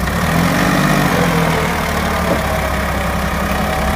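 Tractor engine running loud and close while pulling a cultivator, a steady heavy diesel rumble held at high revs for a few seconds with no talk.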